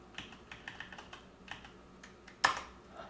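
Someone types on a computer keyboard while troubleshooting Debian Linux, producing soft, close keystroke clicks at an uneven pace with one sharper, louder key press.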